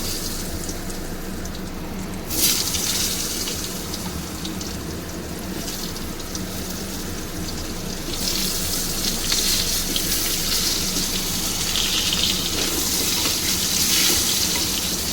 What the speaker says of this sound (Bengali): আলুটাও একটু লাল করে ভাজবো